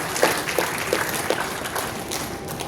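Audience applause for a graduating batch at a convocation ceremony, moderate clapping from a crowd in a large hall, a few sharper claps near the start before settling into a softer, diffuse patter.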